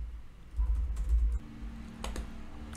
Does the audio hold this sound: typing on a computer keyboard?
yes